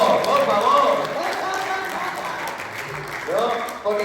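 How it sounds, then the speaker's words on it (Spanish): Applause from a church congregation during a Sunday sermon, a brief burst of clapping over which a voice keeps talking, fairly close and moderately loud. "Hermana, denle un aplauso"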